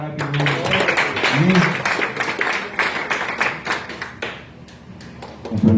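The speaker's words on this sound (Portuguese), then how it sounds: "um aplauso ao Senhor, que Ele é maravilhoso" A church congregation claps in praise, a rhythmic patter of many hands under a preacher's voice that fades toward the end, with someone speaking over it throughout.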